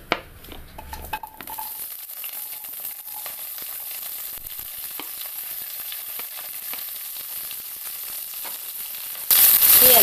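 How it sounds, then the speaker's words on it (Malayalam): Green beans dropped into about two tablespoons of hot coconut oil in a pan, giving a steady, crackling sizzle that runs evenly throughout, with a louder burst of frying near the end. "ചൂടായ എണ്ണയിലേക്ക് ബീൻസ് ഇട്ട് കൊടുക്കാം."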